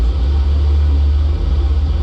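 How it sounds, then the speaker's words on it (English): Landing gear lowers in a flight simulator game, heard as a loud, steady low rumble and whir that holds throughout. "The noise you're hearing is the landing gear going down."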